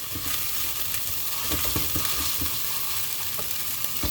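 Spice paste for a shing fish curry frying in a pan, a continuous dense sizzle with repeated scraping and stirring knocks throughout, and no speech.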